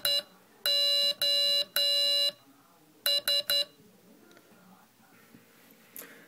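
An electronic Morse code decoder emits the SOS pattern as sharp, loud tonal beeps: three long tones, then three short quick ones, followed by quiet with faint background noise.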